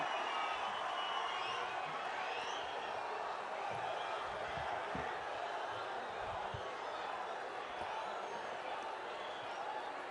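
A large crowd at a Bharatiya Janata Party rally applauds as Narendra Modi takes the stage, a faint, continuous roar of clapping and cheering that holds steady throughout.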